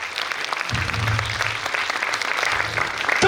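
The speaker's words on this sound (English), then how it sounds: "Can we have a huge round of applause?" A crowd at a Toastmasters district meeting breaks into applause for a woman in a checked coat picked from the audience, steady clapping filling the hall with a low murmur beneath.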